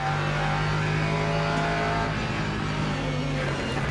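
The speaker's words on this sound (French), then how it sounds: "Il y a une LMP2 qui va arriver." An LMP2 prototype race car in the Le Mans Ultimate video game at Barcelona, a loud continuous engine drone with steady pitch and a slight shift partway through, filling the whole stretch without speech.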